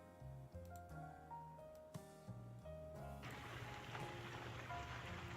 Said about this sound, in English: yeah, it is pouring down rain now.